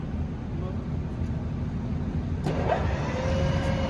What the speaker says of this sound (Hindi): 900 rotations per minute is the current spindle speed.